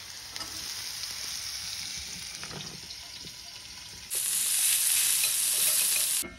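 Chopped tomato fries in a pan while being stirred, with a steady close sizzle and scraping that suddenly swells into a louder, brighter hiss partway through.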